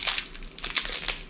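Crinkly plastic wrapping being torn and crushed open on a stiff packaged toy, a quick run of close crackling bursts with no talk.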